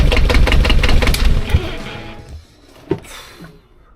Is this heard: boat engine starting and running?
yes